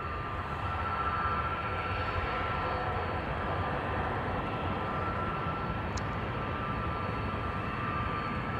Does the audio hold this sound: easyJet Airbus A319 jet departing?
yes